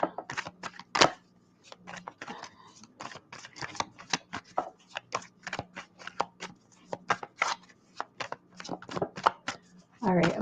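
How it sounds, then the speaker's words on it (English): A deck of tarot cards is shuffled up close in a rapid series of crisp riffles, flicks and taps, with a voice talking intermittently. "shuffling the deck."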